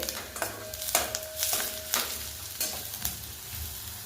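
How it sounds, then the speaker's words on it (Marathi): Onion and half a mild chili sautéing in a pan, with a steady sizzle broken by repeated scraping stirs roughly every half second to second, close and alone with no talk. "कांदा भाजायला सुरुवात झालाय"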